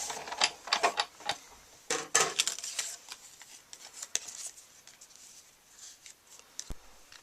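A sheet of white scrap paper being cranked through a die-cutting machine makes irregular clicking and ratcheting mechanical sounds, loud bursts early then fading into lighter, sparser clicks.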